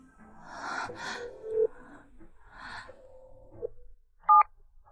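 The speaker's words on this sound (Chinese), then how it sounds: "既然你说陈霆锋是你哥哥，那我现在就打给他。" A telephone is dialed in a drama scene: a few short keypad beeps, the crispest one near the end, with faint breaths and soft rustling between them and no talking.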